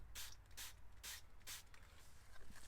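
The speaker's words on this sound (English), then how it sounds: "put a little spray of the Total in the affected area" Autofinesse Total interior cleaner sprayed from a trigger bottle onto a car seat: four short, crisp hissing bursts in a steady rhythm, close and fairly quiet, with no talking.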